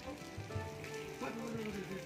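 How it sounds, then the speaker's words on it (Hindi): Steady rain falls at dusk in Quetta, a continuous soft hiss heard under a voice as he talks. "बारिश लगातार हो रही है।"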